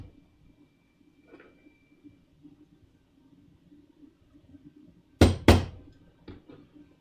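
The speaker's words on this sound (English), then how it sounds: "Now I just tap these a little bit with my hammer on the end of my anvil." A hammer taps staples closed against the end of an anvil during leather armor work, two sharp loud metallic strikes close together followed by a lighter tap, set against quiet shop background.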